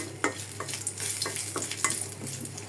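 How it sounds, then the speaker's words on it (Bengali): Four dried red chillies frying in a pan for mashed potatoes, a steady close sizzle broken by several scraping stirs of a spatula, with no voices. "আলু ভর্তার জন্য 4টা শুকনো মরিচ ভাজা রেখে দিই, মশমশা হয়ে যাবে।"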